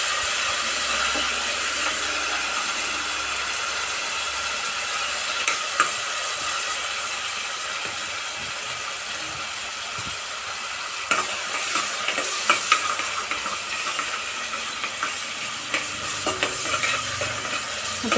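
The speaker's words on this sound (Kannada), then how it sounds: "ಸ್ವಲ್ಪ ಕೆಂಪಗಾಗೋ ತನಕ ನಾವು ಈರುಳ್ಳಿನ ಎಣ್ಣೆಯಲ್ಲಿ ಫ್ರೈ ಮಾಡಬೇಕು" Onions frying in oil in a pan for a bean sambar, a steady close sizzle that runs throughout, joined later by irregular clatter and scraping from stirring.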